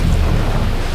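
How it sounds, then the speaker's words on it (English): A loud, deep rumbling blast from an in-game explosion in Helldivers 2 fills the second, a dense boom with no speech. "Explosion."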